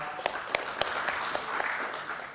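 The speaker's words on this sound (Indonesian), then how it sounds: "Tepuk tangan untuk kita semua." Attendees at a meeting with Education Minister Nadiem Makarim clap together, a soft, even patter of many hands with a few sharper individual claps standing out, heard from a distance.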